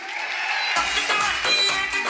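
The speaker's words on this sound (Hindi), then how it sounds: "इनके लिए जोरदार तालियां बनती कि नहीं बनती?" Audience applause at an event, steady broadband clapping throughout that grows louder and fuller about a third of the way through, with the crowd close by and no clear talk on top.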